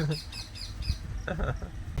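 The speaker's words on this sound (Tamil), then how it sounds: "கீச்சுக்குது." A bird gives quick, faint chirps and tweets in short bursts, partly under a person's talking and background noise.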